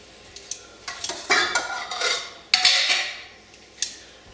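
Clattering and scraping of cooked mussels being tipped from a pan into a dish, with metallic clinks and sloshing bursts, close and moderately loud.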